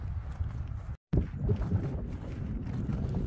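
Wind gusting across an exposed mountain trail on a cold day, a steady broadband rush with buffeting on the microphone and one brief dropout, close and fairly loud with no voices.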